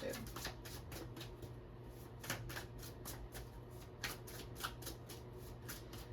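Tarot cards are shuffled rapidly and repeatedly close up, a steady riffling flutter of soft rhythmic slaps with no voices.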